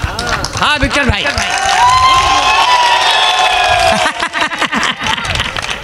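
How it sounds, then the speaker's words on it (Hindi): An audience breaks into loud, sustained applause and cheering at a Hindi poetry recital, with claps and shouts filling the room for several seconds before tapering off under a speaking voice. "जोरदार तालियां"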